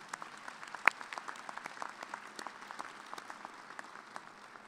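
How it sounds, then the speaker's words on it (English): Quiet, distant applause from a graduation commencement audience, steady scattered clapping with one sharper clap standing out early on. "Please join me in giving our platform party a round of applause."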